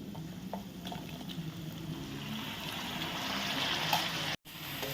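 Peanuts and red chillies sauté in a pan, a soft continuous sizzle with faint stirring, fairly quiet throughout and briefly cut off near the end.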